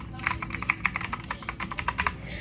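Keys on a Motospeed CK61 mechanical keyboard clatter in quick, uneven bursts of sharp clicks close by, with a low background hum beneath.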